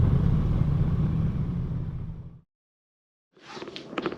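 Honda Goldwing motorcycles rolling in to park, a loud close engine rumble that fades out abruptly, followed by a moment of silence and then a shorter burst of engine and handling noise.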